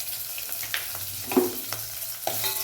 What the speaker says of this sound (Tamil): ஒரே ஒரு பச்சை மிளகாயை உடச்சி பெருசாக இருக்குது போட்டிருக்கேன். நல்லா வதங்கிடுங்க இந்த ஆயிலில்.